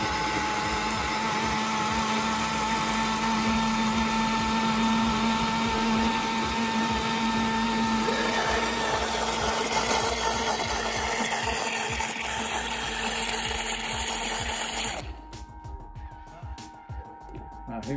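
An electric blender whirs loudly and steadily as it purées red pepper sauce, then drops off abruptly near the end, leaving a quieter, uneven hum.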